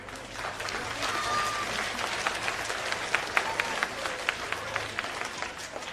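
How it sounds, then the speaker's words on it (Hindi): A village crowd at a Jan Suraaj padyatra rally in Bihar breaks into sustained applause, with a dense wash of clapping and some sharper individual claps standing out toward the end, heard at moderate distance. "एक बार सब लोग जोरदार ताली बजा दें।"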